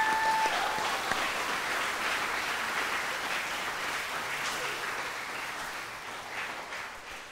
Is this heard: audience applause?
yes